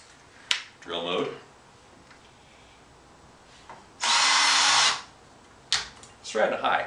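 A Hitachi DS18DGL cordless drill whirs in one sustained burst of about a second while drilling wood, with clicks and short mechanical noises before and after.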